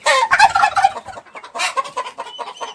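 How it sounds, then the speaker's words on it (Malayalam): A male turkey gobbles in two rapid, rattling bursts, loud and close, with a short pause between them and fainter trailing calls afterward, all without any talk over it. "ശബ്ദം ഉണ്ടാക്കുന്ന രീതി ഇതാണ് ആൺടർക്കിയുടെ."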